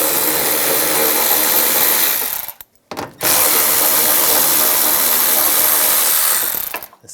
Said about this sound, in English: We're going to remove the inner fender well, at least the back side of it, using an 8mm socket.